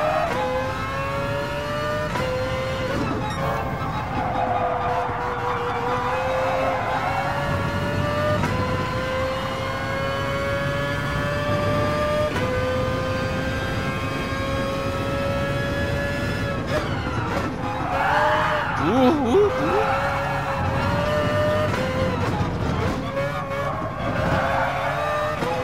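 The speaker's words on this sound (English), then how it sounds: "I love the noise that the engine makes." The Mazda RX-Vision GT3 Concept '20 in Gran Turismo Sport screams loudly, its pitch rising through the gears with several distinct upshifts and brief dips, alone with no talking.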